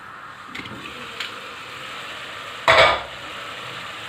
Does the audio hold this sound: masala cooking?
yes